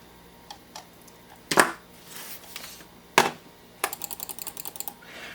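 Upgraded switches in a Logitech mouse clicking after reassembly: a few sparse single clicks, then a rapid run of about a dozen close, crisp clicks, loud and near with no talking.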